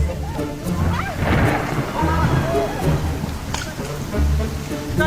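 A thunderstorm with steady rain and low rolling thunder rumbles, loud and close, continuing through the whole stretch with no talk over it.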